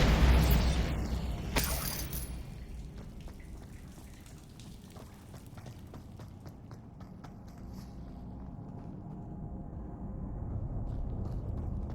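A Bombarda blasting spell goes off in Hogwarts Legacy on PS5, a loud deep boom with a crackling burst that decays into a rumbling, debris-like rattle and ambient game noise over several seconds.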